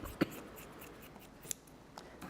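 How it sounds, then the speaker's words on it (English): Scissors cutting fabric during a quilting block craft session: a few faint, sharp snips spaced across a quiet background. "So I'm going to cut that with my scissors."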